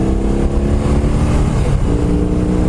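A 2020 BMW R18 motorcycle accelerates on an open road, a loud, close engine roar that holds steady then shifts pitch briefly, with wind noise and no speech.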